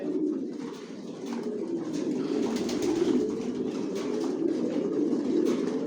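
Several racer pigeons coo together in a continuous, overlapping low warble, close and fairly loud, with faint rustling in the background.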